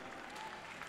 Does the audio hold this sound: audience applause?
yes